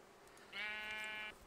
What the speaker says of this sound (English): I have trapped my own sheep now.